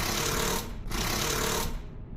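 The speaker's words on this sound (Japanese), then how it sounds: "ドリル？ なんで？" A power drill whirs loudly in two sustained bursts with a brief pause between, harsh, buzzing and close, then cuts off.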